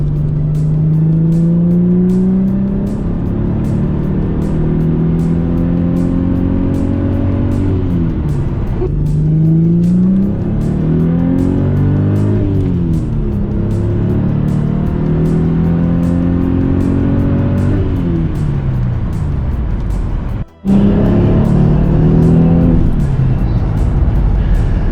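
An Audi S4 pulls hard in third gear on a tuned engine, its loud revving climbing steadily through several rising sweeps, with a brief cut near the end before the engine resumes.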